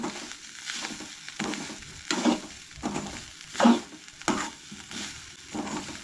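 Spoon stirring and scraping through a sizzling spice masala of turmeric and coconut in a hot pan, with soft rhythmic strokes and frying crackle, close and fairly loud without any talk.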